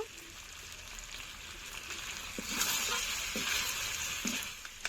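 Chicken sizzling as it is sautéed in a pan for a yogurt chicken curry, a steady close frying hiss with faint stirring scrapes and small clicks throughout.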